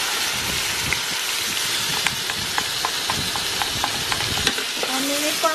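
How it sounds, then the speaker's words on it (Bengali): Marinated beef hits browned onions in a hot pan for beef biryani, giving a steady loud sizzle with scraping stirs and clinks of a utensil throughout. "এই যে আমার মেরিনেট করা মাংসটা এখন আমি দিয়ে দিচ্ছি।"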